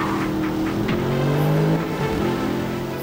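A 2015 Ford Mustang GT in the racing game NFS Rivals, its V8 engine revving loud and close with a steady droning tone that climbs in pitch and then settles, with no voices over it.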